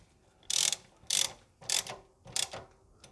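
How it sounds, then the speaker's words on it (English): Socket wrench ratchet snugging down a bolt with a 12mm socket during a Toyota Land Cruiser swivel hub rebuild: four close, crisp ratcheting bursts in a steady rhythm with short pauses between, no talking. "we're just going to snug that down with a 12mm socket on the socket wrench"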